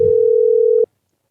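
A single steady ringback tone on a mobile phone call, loud and close, holding one continuous pitch for under a second before cutting off abruptly into silence.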